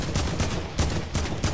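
Rapid gunfire from a Fortnite match, several sharp bursts in a quick, uneven rhythm, loud and close with no talking over them.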